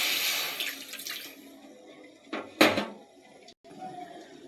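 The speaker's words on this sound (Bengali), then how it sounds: "কড়াইটা ধুয়ে নেব।" Running tap water splashes while a kadai frying pan is washed, a hissing stream at first, then a few sharp clanks and splashes before it quietens.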